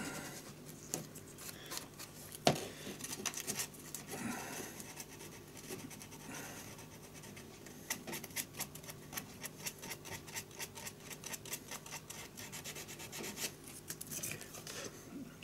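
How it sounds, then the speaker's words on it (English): Sandpaper rubs back and forth against the edge of a piece of wood to round it off, a quiet dry scratching in quick irregular strokes, close and unaccompanied by talk. "follow the contour, a little bit of sandpaper, so you're rounding it off"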